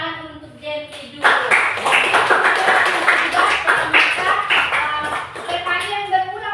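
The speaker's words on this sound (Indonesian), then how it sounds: "Tepuk tangan untuk Gentry dulu." Students in a math classroom clap for a classmate who has just answered at the board, a short burst of scattered hand claps with some tapping and shuffling, and talk before and after.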